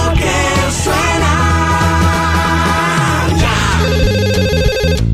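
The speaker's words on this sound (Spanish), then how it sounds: "¡Es un teléfono!" A telephone rings within a loud children's song, the ringing tones blended with music and a short shouted voice, continuous and close throughout.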